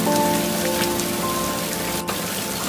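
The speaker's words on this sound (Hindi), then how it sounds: "फिर एक दिन जंगल में तेज बारिश शुरू हो जाती है।" Heavy rain in a Hindi cartoon forest scene, a steady dense hiss of downpour on surfaces filling the whole stretch alone, with a faint low tonal hum beneath.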